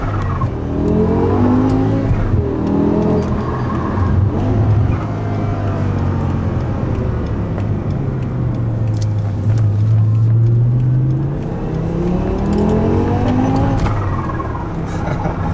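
A modified 800 HP supercharged BMW M5 V10 revs and roars loudly and continuously on the German Autobahn, pitch rising and falling as it accelerates and shifts, with no talking.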